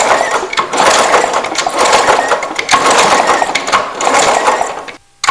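A 1973 Honda SL125 motorcycle engine cranks over with a loud, continuous rough mechanical churning that surges and dips in a few pulses for about five seconds, then cuts off abruptly.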